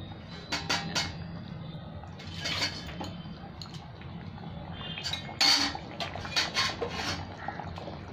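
Fish pieces go into a pot of potato and tomato curry, with clinks of utensil against metal pot, light splashes and bubbling liquid, close and moderately quiet, a few sharper knocks standing out.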